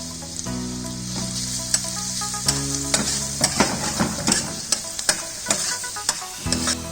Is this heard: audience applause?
no